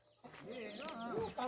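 A chicken clucks up close in a short, faint burst of warbling calls, with no voices over it.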